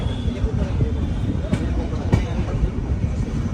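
Intercity Express train pulling into platform 1 at Rajkot Junction, a low rolling rumble of coaches with a couple of sharp metallic clanks, heard from inside a coach with murmured background voices.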